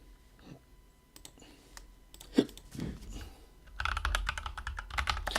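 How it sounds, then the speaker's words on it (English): Typing on a G-Skill computer keyboard, with scattered clacks building into a steady, fast run of close keystrokes. "Hope you like the keyboard sounds."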